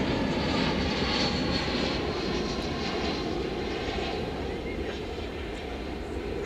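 Heavy jet airliners taxiing past one another at DFW airport give a loud, steady, close engine roar with a whining tone above it, sustained throughout and fading slightly toward the end.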